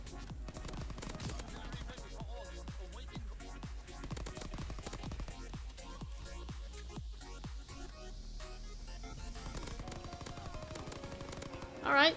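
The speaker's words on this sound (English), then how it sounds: "Guess we're using the PPSH now." PPSh submachine gun fired in rapid bursts in a WW2 shooter game, a dense run of sharp repeated shots over a steady layer of game noise, ending with a louder burst at the close.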